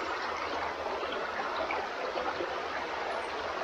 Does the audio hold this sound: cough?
no